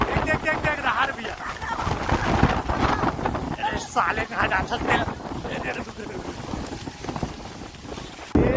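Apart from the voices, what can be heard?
strong wind blowing at vegetable market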